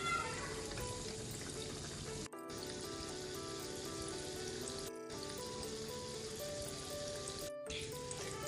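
Khoya gulab jamun frying in oil, a dense steady sizzle and bubbling that runs the whole time, close and fairly loud, broken only by a few brief silent gaps.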